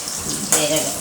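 Mustard seeds tempering in hot oil, a close crackling sizzle that jumps louder midway with sharp spattering pops, a faint voice barely present.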